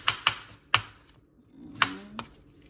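A knife slices a cucumber into small pieces on a cutting board, several crisp knocks in an uneven rhythm with short pauses between, close and clear without talk.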